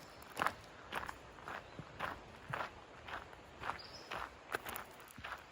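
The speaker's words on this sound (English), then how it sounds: "Some people have their horse here at Anthony Creek Horse Camp." Regular, soft hoof-like footsteps at a horse camp in the Great Smoky Mountains, about two steps per second, faint and fairly distant against a quiet outdoor background.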